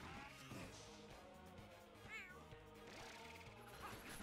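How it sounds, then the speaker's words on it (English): Lollipop, a new fighter in the Nintendo game ARMS, lets out one short meow midway over busy, looping game music. "Did she just meow?"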